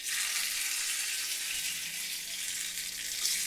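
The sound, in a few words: sweet corn cutlets frying in oil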